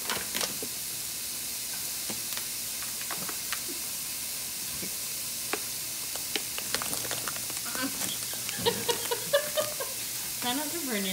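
A pot of water for gnocchi boils on a stovetop, producing a continuous hissing, sizzling bubble with scattered clicks and knocks. Utensil or pot clatter grows busier toward the end.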